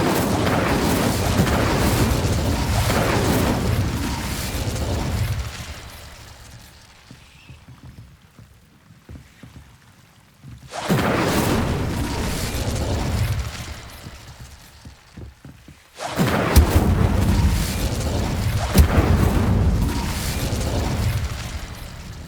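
Incendio fire spell cast in Hogwarts Legacy, a loud roaring burst with booming rumble lasting several seconds, returning in two more surges separated by quieter gaps.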